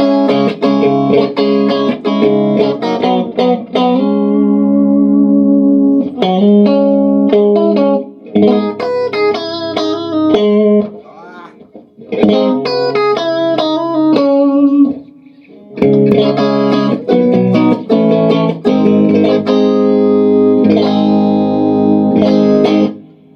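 Heavily distorted electric guitar played through a Jet City Jettenuator power soak, chugging chords and riffs in bursts separated by short pauses, loud and close with a saturated, effects-laden tone and no voices.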